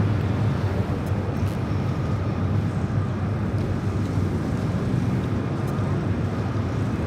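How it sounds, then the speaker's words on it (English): An American Airlines Boeing 737-800 takes off from LAX toward Chicago, a steady broad jet roar that stays at an even level from start to end, somewhat distant and without voices. "This is American Airlines 1006 taking off to Chicago on a"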